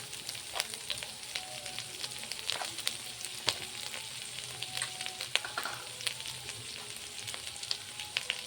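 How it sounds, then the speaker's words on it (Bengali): Spice paste with cumin fries in a pan for taro leaves cooked with coconut, giving a steady close crackling sizzle with dense pops and occasional light stirring throughout. "মশলাটা কষে নেব সুন্দর করে।"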